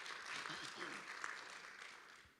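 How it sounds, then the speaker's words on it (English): Conference audience clapping, a faint, continuous wash of applause with voices blended underneath, easing slightly toward the end. "I think that deserves a big round of applause"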